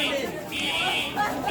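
A loud fire alarm blaring in a room during benchmark testing, its harsh electronic tone wavering and pulsing as people talk over it.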